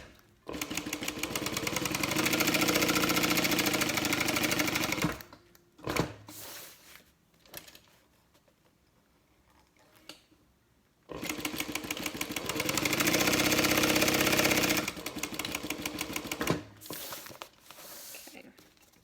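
A sewing machine stitching a bag, two long runs of rapid, dense motor whirring of about five seconds each, separated by a quiet pause with faint handling sounds.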